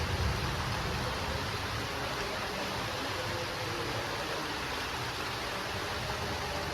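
Rain falls steadily outside a house window in bad weather, making an even, unbroken hiss that stays constant throughout with no pauses or voices.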